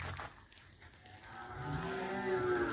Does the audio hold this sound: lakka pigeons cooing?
no